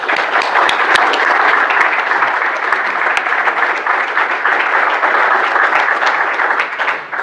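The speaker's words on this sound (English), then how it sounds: "I would like to thank all the reviewers for their hard work with a round of applause" A conference audience at a programming-languages event applauds the reviewers, a dense, sustained round of clapping from many hands, steady and fairly loud with a few sharper individual claps, easing off at the very end.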